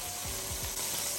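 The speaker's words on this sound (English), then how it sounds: "Wow, listen to that sizzle." A Thanksgiving turkey roasting in a pan gives a dense, steady sizzle with a few faint crackles and ticks, close and continuous, with no voices.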